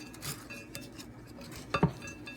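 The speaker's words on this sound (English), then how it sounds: "So you want to mix all this in together" Buttered crumb topping for a chicken casserole being stirred in a bowl with a utensil, giving soft scraping and a few clinks of metal against dish, with one sharper clatter near the end.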